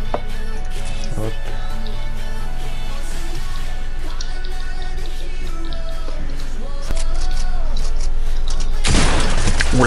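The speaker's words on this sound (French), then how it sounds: "Ouh la balle de pompe, ça fait mal ça." A pump shotgun blast fires in the Fortnite build-fight match, a sharp broadband burst near the end over a dense layer of game music and effects with no voices.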